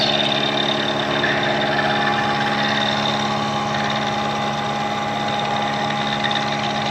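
A Bridgeport milling machine takes a 20-thousandths cut at about 1000 RPM, giving a loud, steady motor hum and drone with a constant mechanical whine throughout.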